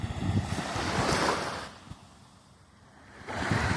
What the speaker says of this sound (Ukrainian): Маленька хвиля прибивається